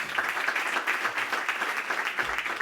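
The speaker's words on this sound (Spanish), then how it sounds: "Un aplauso para él." Audience applause at a book presentation in Madrid, a steady rippling patter of many hands clapping at moderate loudness, continuing without pause or voices.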